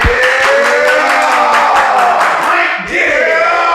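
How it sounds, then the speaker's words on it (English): An audience cheers and whoops with some scattered clapping, loud and close, with voices shouting over the crowd noise throughout. "Everybody start clapping right now."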